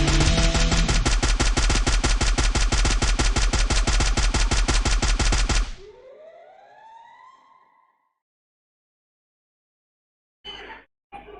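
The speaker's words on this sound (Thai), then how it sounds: "ไอ้น้อยมีปืน M79 นะครับยิงมันไปเลย" Rapid, loud gunfire from an M79 grenade launcher in the Free Fire shooter game, a dense, evenly spaced burst of shots lasting several seconds that cuts off into a ringing, fading tail, followed after a silence by a couple of short, abrupt sounds.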